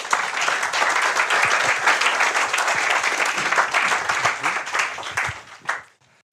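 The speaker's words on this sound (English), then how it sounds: "Can I give him a round of applause, please?" A conference audience gives a round of applause for a speaker, dense, loud clapping held steady for several seconds before it thins out and stops abruptly.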